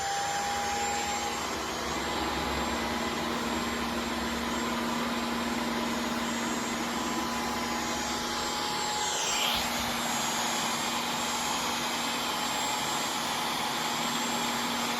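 A Dyson V15 Detect Absolute cordless vacuum cleaner runs with a steady, even whine, a constant motor hum beneath it and a brief pitch sweep near the middle.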